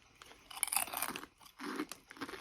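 Close, crisp crunching as someone bites into and chews Miss Vicky's crunchy kettle chips in a few quick bursts.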